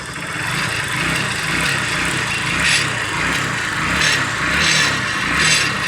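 A Supremo TMX 150 motorcycle engine runs after a carburetor adjustment, a loud, close, steady buzzing idle that swells several times with short revs.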